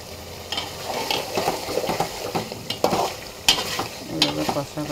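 Beef cooks down in a pan, scraped and stirred repeatedly with a spoon over a continuous sizzle, the metallic scrapes coming in uneven bursts close up.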